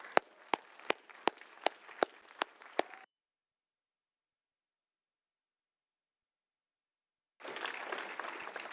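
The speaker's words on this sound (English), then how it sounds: "I'd like to ask you all to join me in giving them a round of applause." Audience at an evening city council session applauding public service workers: a few distinct, evenly spaced claps, then silence, then a burst of denser, softer applause.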